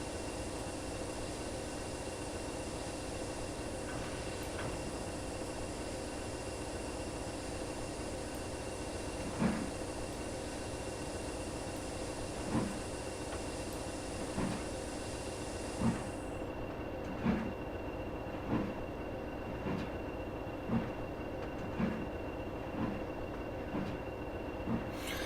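Steam locomotive in Trainz Plus pulling away from Barrow Hill, a steady rumbling rail hiss with regular rhythmic clanks of wheels growing more frequent as it gathers pace, loud and continuous with no talking.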